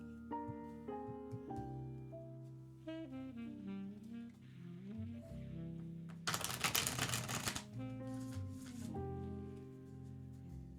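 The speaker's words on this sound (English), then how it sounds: "we just shuffle the cards" Tarot cards are riffle-shuffled in one quick, crisp burst lasting about a second, heard over soft background music.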